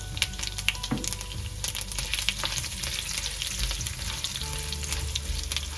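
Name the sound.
fennel seeds and dried chilies stirred while frying in pan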